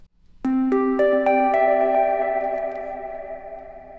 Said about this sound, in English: which is a kind of pluck sound.